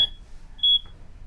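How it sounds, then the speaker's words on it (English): Electronic alarm beeps in the horror video game Dark Nights with Poe and Munro: a sharp, high tone at the start, then a second longer beep a moment later over quiet background hiss. "Ooh, that beeping is getting in my ears."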